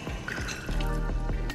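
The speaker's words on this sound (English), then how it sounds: "I'm gonna add some water in there." Water poured from a cup into a pot of simmering veggie chili, a close, steady splashing pour of about a second and a half that grows fuller midway, with no talking.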